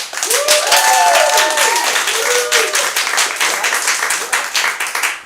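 Theater audience clapping to vote for an improvised Broadway-style musical, loud sustained applause with a few voices calling out over it.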